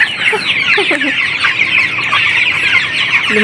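A flock of farm chickens about 45 days old clucks and chatters busily at feeding time, loud and close, with overlapping calls forming a continuous noisy din.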